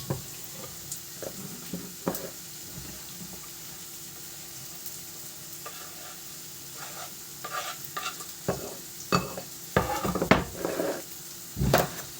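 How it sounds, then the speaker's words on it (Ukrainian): Food stews and sizzles quietly in a pan, a soft steady simmer broken by intermittent clinks and scrapes of stirring that grow busier toward the end. "Зараз вона до м'якості підтушиться."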